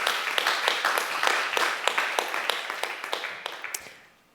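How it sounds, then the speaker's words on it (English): An audience at a creative resilience talk applauds, with close, crisp individual claps over a dense wash of clapping that thins and fades out near the end. "Yeah, applause."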